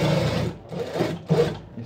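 A sewing machine stitching a cloth pocket runs in three short, close whirring bursts with brief pauses between them.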